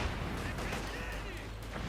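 Faint gunfire and shelling crackle in a Company of Heroes 2 match between Wehrmacht and US Forces, a low, steady rumble of distant shots during a firefight.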